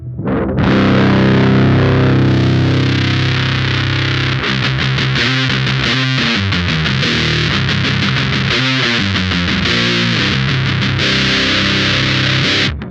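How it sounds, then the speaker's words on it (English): Loud, saturated electric guitar playing through a Minotaur Big Muff-style fuzz pedal with the tone control turned up for a brighter, buzzier edge; continuous riffing chords and sustained notes for over ten seconds, no voices. "And then if you turn it up, you're gonna get a brighter sound."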